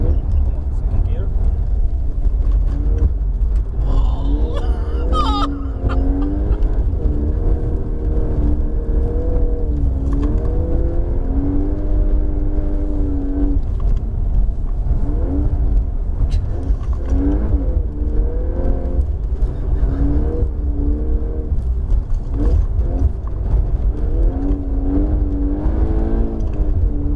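A car accelerates hard through second gear, its engine revving up and then dropping at each shift, loud and close under steady excited talk from the occupants.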